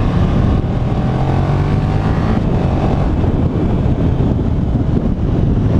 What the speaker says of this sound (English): As you hit 50, the wind starts to pick up, but it doesn't move your body back, you just hear it